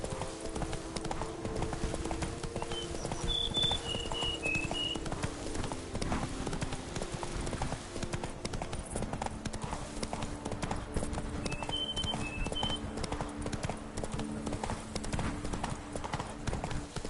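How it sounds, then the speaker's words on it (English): Horse hooves clip-clop steadily in The Witcher video game, a moderate rhythmic trot over ambient game sound, with two brief high bird-like chirps and no clear speech. "That's it, Roach."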